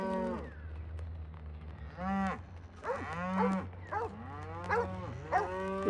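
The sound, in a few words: cattle bull mooing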